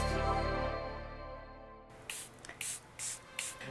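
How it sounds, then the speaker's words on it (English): After a fading musical tone, several short hissing sprays of makeup setting spray from a pump bottle puff out in quick succession, close and distinct. "So I like to spray my setting spray in between each step"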